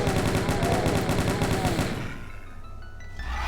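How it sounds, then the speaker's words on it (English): Chain gun in the video game Doom 2 firing a loud, rapid stream of shots for about two seconds, then stopping as quieter game sounds carry on. "Chain gun, yeah."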